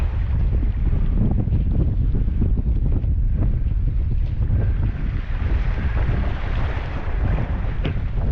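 Strong wind over 30 knots roars across open water during a downwind stand-up paddleboard run, heavy low rumbling gusts buffeting the microphone continuously, with faint splashing beneath and no talking.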